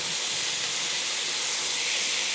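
Vegetables and tomato paste toasting in a pot for beef short ribs give off a loud, continuous sizzling hiss with no pauses.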